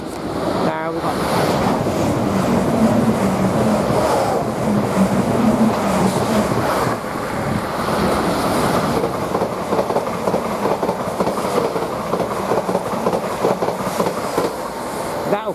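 Two trains pass each other at Witham railway station, a loud, sustained rushing roar with rhythmic clickety-clack of wheels over rail joints that builds and then settles into repeated clatter.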